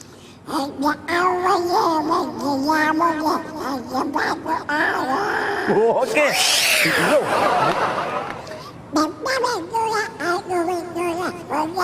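A voice mimics a cat singing a song, with warbling, meow-like vocal tones that rise and fall continuously at close range, turning into a gargling flourish midway.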